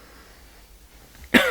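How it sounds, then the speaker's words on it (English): A single sudden cough from a person with a lingering bad cough, loud and close, breaking out after near silence at the very end. "excuse me, I've got a bad cough lately."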